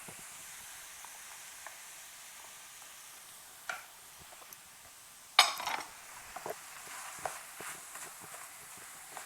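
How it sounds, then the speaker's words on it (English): Carrots go into a sizzling pan while shepherd's pie filling cooks: a steady soft hiss of frying, broken by a clatter and a sharp louder burst as the pieces drop in, then scattered stirring knocks. "here I'm gonna add my carrots"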